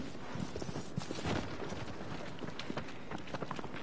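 A horse gallops in Shadow of the Colossus, with rapid, steady hoofbeats running continuously over a busy game background.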